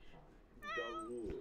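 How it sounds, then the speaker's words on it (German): A cat in The Sims 4 lets out a clear, drawn-out meow close up, with a faint voice talking quietly underneath. "Und jetzt so langsam mauzen sie auch mal wieder ein bisschen."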